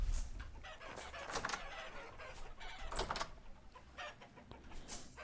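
Several chickens cluck and squawk in Vintage Story, the calls coming in quick irregular bursts close by with no talking over them.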